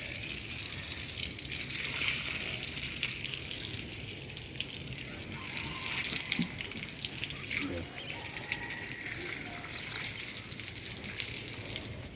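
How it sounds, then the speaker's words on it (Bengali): An outdoor tap runs on a rooftop garden during cleaning, giving a steady, loud gush of water that lasts throughout with no pauses. "খুলে দেবো কল"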